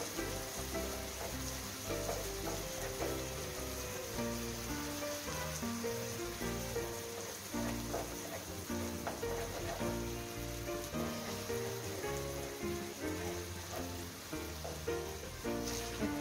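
Chicken liver fries with tomato and spices in a pan, giving a constant dense sizzle and crackle with small scraping stirs, close and steady throughout.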